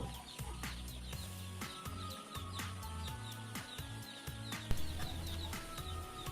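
Young broiler chicks in a coop peep constantly, a dense overlapping chorus of high chirps from many birds close by, with soft low thumps and knocks running beneath and no speech.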